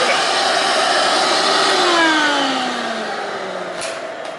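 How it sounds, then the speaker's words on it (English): A shop vacuum runs loud and steady, its broadband whine holding level before easing slightly and dipping in pitch near the end, with a brief knock at the close. "Yeah, but you're burning out my vacuum."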